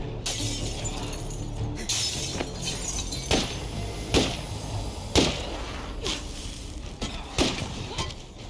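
Molotov cocktail glass shattering in the State of Decay 2 game, with several sharp breaking crashes at irregular intervals over constant loud ambient noise.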